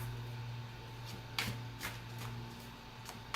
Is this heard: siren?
no